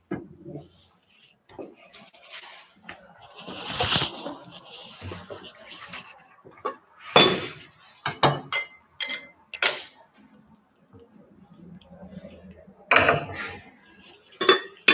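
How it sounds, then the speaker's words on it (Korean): A small metal pot and utensils clatter and clink in scattered bursts, close by, as the pot is set up for boiling abalone, with quiet gaps and occasional sharp knocks between them. "자, 먼저 냄비를 올리시고요."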